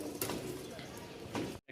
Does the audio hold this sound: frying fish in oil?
no